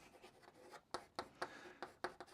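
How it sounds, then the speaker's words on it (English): A pen scratches quickly across paper in a run of short strokes with sharp ticks, faint and close, no talking. "I'm just gonna write some stuff here."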